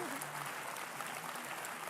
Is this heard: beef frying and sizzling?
no